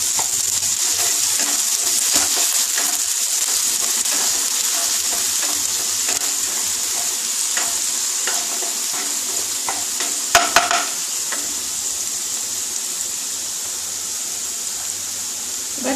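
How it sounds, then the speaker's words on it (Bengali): Onion fries in hot, spattering oil in a fish-roe fritter curry pan, a continuous loud close sizzle with occasional stirring clinks and a brief sharp knock midway. "পেঁয়াজটা একটু ভাজবো।"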